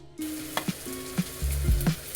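Vegetable fried rice hotel-style frying in a hot pan, with a steady sizzle broken by several sharp scraping knocks as it is stirred, close and loud with no talk.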